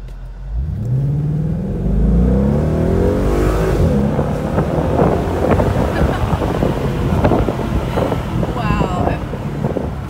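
2016 Ford Mustang GT Premium convertible engine revving hard on a test drive, rising through gears with climbing tones, loud and close under heavy wind rush from the open top, with some talk.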